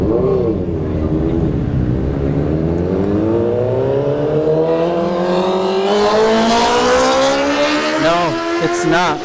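Suzuki Hayabusa and Kawasaki ZX6 motorcycles launch side by side in a drag race at a test-and-tune street event, engines climbing steadily in pitch through the gears, loud and sustained with a commentator talking over them.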